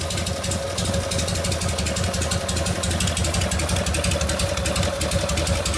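A 1952 Harley-Davidson Panhead engine with a Linkert carburetor idles lean right off idle, a loud, steady, close mechanical chug with rapid even firing pulses and no pauses.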